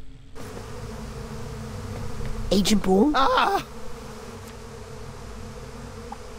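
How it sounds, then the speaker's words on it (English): Bees buzz in the Psychonauts 2 video game, a steady insect drone under a brief, startled exchange of voices. "Want me to kill those bees?"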